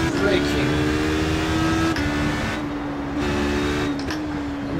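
A high-revving HPD ARX Le Mans prototype race car engine, simulated in iRacing, runs up through the gears along the main straight at Suzuka at about 260 km/h, with steady tonal whine and brief gearshift dips throughout.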